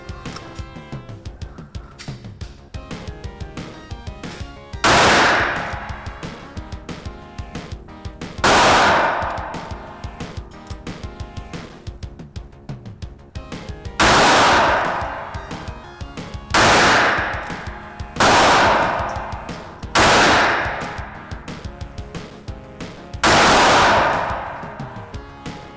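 A Smith & Wesson Model 48 revolver fires seven loud, close shots at uneven intervals over about twenty seconds, each a sharp crack with a short decaying tail, with quieter handling noise in between.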